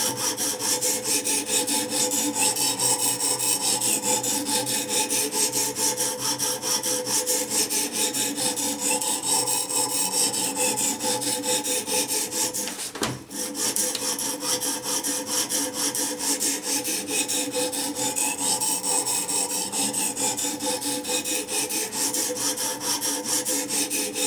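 Steady back-and-forth rasping of an M390 steel knife blade stroked over an oiled Gritalon sharpening stone, loud and close, an even rhythmic scrape running continuously with one brief break midway, no talking.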